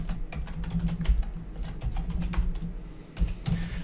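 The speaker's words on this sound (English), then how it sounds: "And so now I'll type that in." Typing on a computer keyboard while entering a server name, heard as quick, uneven key clicks close by. A short pause falls just past the three-second mark before the tapping picks up again, with no voice.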